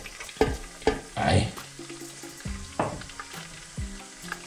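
Chopped garlic hits the chicken-flavoured oil in a pan for chicken thighs in sauce, with sharp bursts of sizzle and clattering stirs at the start, then quieter frying and a few utensil knocks; a brief spoken word.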